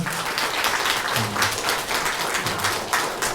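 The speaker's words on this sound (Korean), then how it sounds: "우리 규진이를 위해서 박수 한번 주실래요?" A church congregation claps warmly during a Sunday service, giving a lively round of applause with uneven hand claps that rise and dip in strength, and no speech over it.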